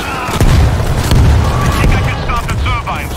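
Mortar blasts in the zombie shooter World War Z, with heavy low booms landing close and loud in a rapid sequence while voices shout over the din.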